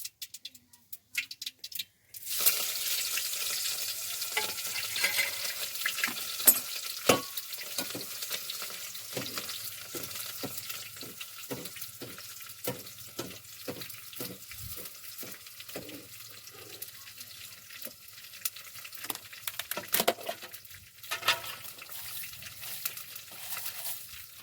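Cumin seeds and chillies tempering in hot oil in a village kitchen, a loud initial hiss settling into continuous close sizzling and crackling with intermittent stirring scrapes, lasting over twenty seconds.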